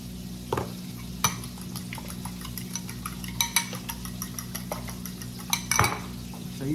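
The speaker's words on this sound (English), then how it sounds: "Now I'm just scrambling an egg" Eggs being scrambled in a skillet: a steady sizzle with repeated clinks and scrapes of a utensil against the pan, close by, in a home kitchen.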